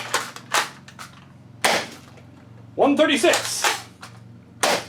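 Game gunfire from the K26 weapon: a few sharp, loud shots spaced irregularly, one burst with a metallic ringing clatter, mixed with speech.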